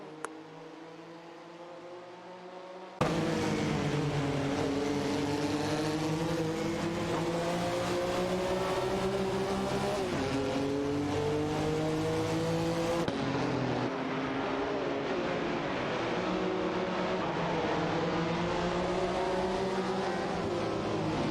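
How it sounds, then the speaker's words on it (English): Race cars in a simulated car race speed continuously with a steady droning engine roar and shifting pitch, loud and sustained throughout with no talk. "checkered flag automobile dashing away."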